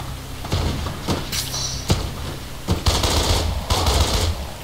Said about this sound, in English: I have no idea where any of these shots are coming from.